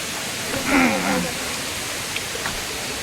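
Tentheinali waterfall at Telkoi gives a steady, even rush of falling water, with a brief voice rising over it near the start.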